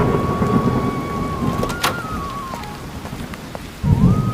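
Heavy nighttime rain pours steadily with a low rumble of thunder underneath and a sharp crack midway, while a faint tonal whine drifts over the downpour.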